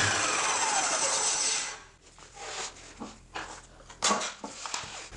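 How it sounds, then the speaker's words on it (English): Table saw making a mitered riser cut through a stair box riser against a set rip fence: a loud steady blade whine that drops off, followed by several short knocks and scrapes as the piece is handled. "With a rip fence set and a firm grip on the piece, I'll make the second mitered riser cut"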